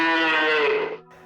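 A single loud, close cow moo rises and holds for about a second, rich and harmonic, then cuts off abruptly, with no voices around it.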